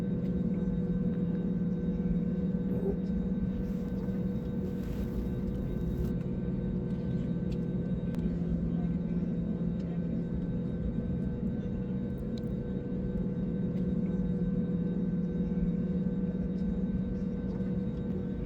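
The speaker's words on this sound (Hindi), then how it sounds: "विमान लैंडिंग की ओर है" Steady airplane cabin drone with a low engine rumble and faint hum holds unchanged throughout during the landing approach into Kolkata's Dum Dum airport, with no talk.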